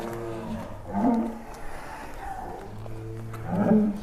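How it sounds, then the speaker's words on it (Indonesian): Giant bull leaving its large pen at a cattle farm, giving two deep, loud roaring bellows about two and a half seconds apart over a low steady hum. "Eksklusif kita akan mengeluarkan Piccolo dari sarangnya, dari kandang besarnya ini di Setia Farm"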